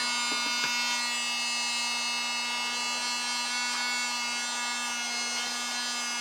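A tiny battery-powered vacuum cleaner, the smallest of its kind, whines with a steady high-pitched electric buzz while cleaning a games room, continuous and close, with a few faint knocks early on.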